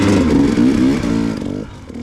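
Vehicle wheels spinning out in a ditch: a loud, close engine revving hard and steady, its pitch wavering as the wheels slip, then easing slightly near the end.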